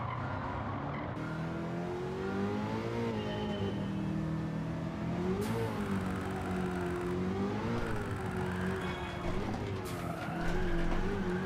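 Race car engine droning steadily and rising and falling with revs, with tires squealing through corners during a racing video game license test; continuous and loud throughout.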